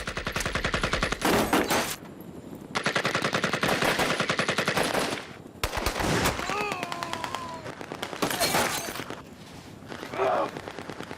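Rapid bursts of automatic gunfire crackle loudly and repeatedly, with brief pauses between volleys and a voice faintly heard amid the shooting.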